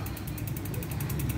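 A Weapon Beast bicycle rear hub freewheel ratchet ticks in a fast, even stream of loud clicks as the wheel coasts close up, with a low hum underneath.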